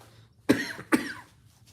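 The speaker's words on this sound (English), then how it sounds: "this dry cough won't go away" Two dry coughs come close together, close up and fairly quiet, with near silence before and after.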